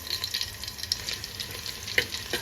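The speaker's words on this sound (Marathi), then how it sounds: "हे गरम मसाले थोडे असे तेलामध्ये परतून घ्यायचे" Steady oil sizzle with crackling pops as crushed garlic and whole garam masala fry in a pan for crab curry, a continuous hiss with occasional sharper spits.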